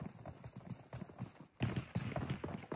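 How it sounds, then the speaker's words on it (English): Footsteps in the shooter game PUBG thud in a quick, steady rhythm, faint at first and then louder and closer in the second half. "they definitely heard an extra footsteps"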